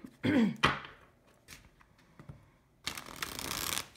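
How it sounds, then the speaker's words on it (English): A tarot deck riffled in two bursts, a crisp fluttering shuffle near the start and a longer steady one at the end, with quiet handling between. "Shuffles so nicely. It has that very smooth shuffle."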